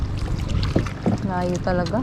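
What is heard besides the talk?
paddling a rowboat in the wind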